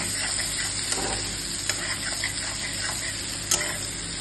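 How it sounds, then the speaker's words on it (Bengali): Cubes of paneer frying in melted butter in a pan, a steady close sizzle broken by a few sharp ticks and scrapes of stirring. "বাটারটা ভালো মতো মেল্ট হয়ে গেলে পনিরটা হালকা করে"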